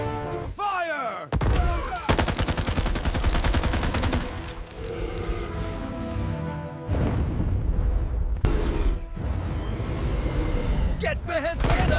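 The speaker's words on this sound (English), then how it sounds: "Activate machine guns." Cartoon machine gun fire from a toy-train battle against a T. rex: a long, loud, rapid volley of shots with booming impacts and thuds, layered under excited voices and music.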